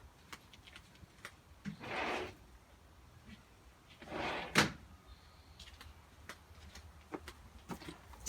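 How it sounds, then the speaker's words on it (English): A door handle clicks and the door swishes open, with a couple of soft rushing movements and scattered small knocks and clicks around them. "We better open the door."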